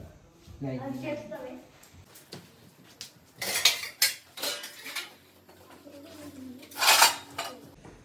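Plates and dishes clatter and clink as they are picked up and handled, with loud, sharp knocks in irregular bursts between stretches of talking voices.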